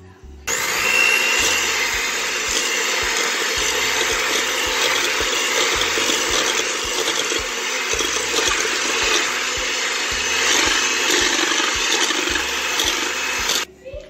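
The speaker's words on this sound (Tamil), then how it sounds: "ஸோ இதை வந்து நான் அந்த லைட்டு கலர் வரும் வரையும் இதை பீட் பண்ண போகிறேன்" An electric hand mixer beats sugar at medium speed for berry muffin batter, a steady, loud whirring drone that runs almost the whole length with slight fluctuations, stopping just before the end.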